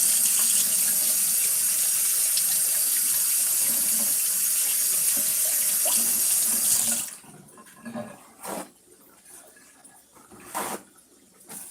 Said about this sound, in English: Let me put this away and I gotta wash my hand.